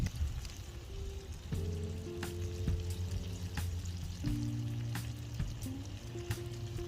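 Lobster tail cooking in butter in a cast iron skillet on a kettle grill gives a soft, bubbling sizzle with sharp pops and spits, over a low, steady background hum.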